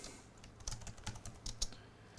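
Someone types on a computer keyboard nearby, a quiet scattering of irregular key clicks with a few sharper taps, with no voices.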